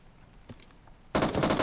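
Gunfire in the Fortnite video game: after a short lull with a brief shot, a loud, sustained rapid burst of automatic fire starts abruptly and continues to the end.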